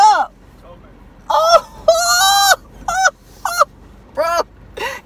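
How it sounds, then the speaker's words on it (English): A bird honks like a goose in a series of loud, nasal calls: roughly six bursts spaced unevenly over about four seconds, close by, with a person briefly exclaiming at the start. "Yo, did you see that bird?"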